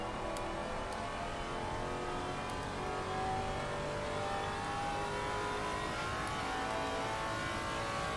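Maserati GT4 race car engine in Assetto Corsa Competizione, running at Barcelona during a VR qualifying session, holds a steady mid-pitched drone throughout, with faint revving shifts and no voices.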